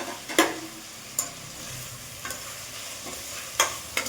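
Tomato and onion sautéed with turmeric for sambar rice, a low continuous sizzle broken by several sharp spoon scrapes and taps against the pan at irregular intervals, close up with no talking.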